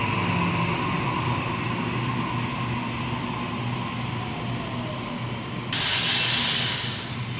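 A Sydney suburban train pulls away from Concord West platform at night: a low rumbling drone under a steady broadband hiss, then a sudden loud rush of air near the end.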